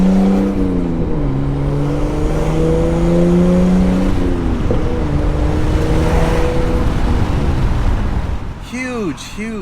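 An R34 Nissan Skyline fitted with sound proofing, its exhaust heard from inside while driving: a loud, close engine note climbs and drops through gear changes, with a voice briefly talking near the end.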